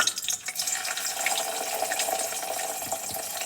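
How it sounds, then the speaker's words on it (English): Steady hissing sizzle of hot oil in a pan while frying waffle fries, continuous and fairly close, with no talking. "if it's sizzling, that means the oil is ready"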